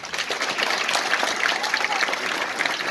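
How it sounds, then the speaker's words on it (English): An audience claps at a real estate seminar, a dense, steady wash of applause lasting a few seconds at fairly loud level. "So for that, I want to give him a big round of applause."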